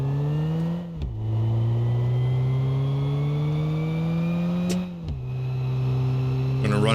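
A car engine hums steadily as the vehicle drives along, its pitch dipping briefly twice as if during gear shifts, with a voice talking over it.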